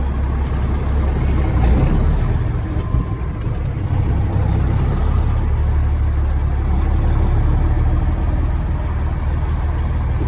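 A truck pulls out onto the road after a tight turn, its engine a steady low rumble carrying close and loud throughout, with no voices over it.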